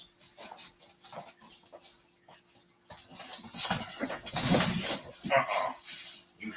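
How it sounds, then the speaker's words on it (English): An American Bully dog barking and whimpering, with irregular yelps and whines that build louder toward the end, and faint bird sounds in the background. "You always barking at me too."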